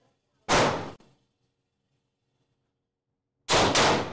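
Two loud, sharp handgun shots at an indoor shooting range, spaced about three seconds apart, the second a quick double report, with near silence between them.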